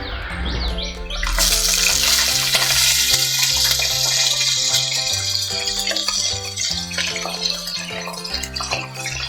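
Curry leaves, a green chili and a dried red chili hit hot oil with popped mustard seeds for sambar, erupting into a loud, dense crackling sizzle that stays steady and close throughout, with no talking.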